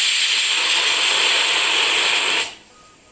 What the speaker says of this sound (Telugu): ఒక 4 విజిల్ వచ్చేంత వరకు ఉడికించుకుందాం